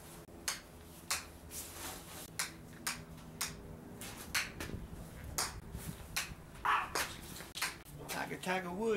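Small dogs bark repeatedly in sharp, yappy bursts at close range, roughly one every second, over faint background music.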